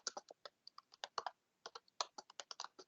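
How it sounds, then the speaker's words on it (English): Rapid, irregular clicking of typing on a computer keyboard, close and fairly quiet, in short bursts with brief pauses and no talking. "So I'm typing it."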